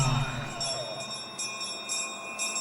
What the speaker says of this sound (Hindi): घंटी की आवाज सुनकर निशाना लगाइए